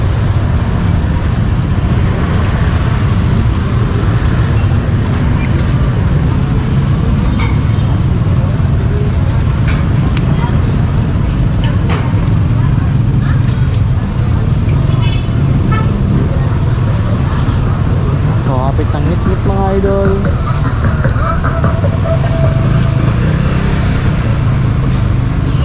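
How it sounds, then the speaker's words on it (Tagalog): Dense city traffic on a street near Carbon Market in Cebu City, with a constant loud rumble of cars, buses and trucks and occasional short horn toots scattered throughout, and people talking over it. "Traffic na."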